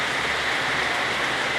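Heavy rain pours steadily under a fully overcast sky, a dense and even hiss of falling water that is loud and unbroken, with no voices.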